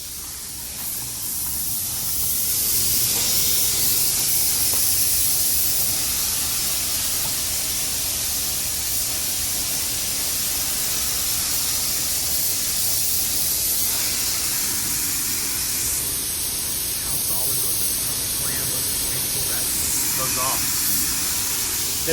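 In a workshop, a spray gun lays down white coating in a steady, loud hiss that runs without a break, and voices talk faintly underneath.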